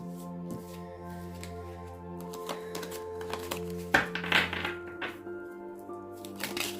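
Tarot cards shuffled and drawn during a reading, a run of crisp riffling snaps and papery flicks with a louder burst midway, over a steady background hum.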